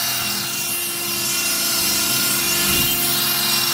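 A homemade sub-£100 2020 CNC machine with a new router cuts into wood, making a continuous loud whining, grinding drone with steady motor hum.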